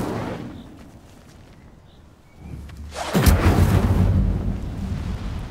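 A fiery blast from the Incendio spell in Hogwarts Legacy, with a quiet lull before a sudden loud whooshing burst of flame that roars on for several seconds.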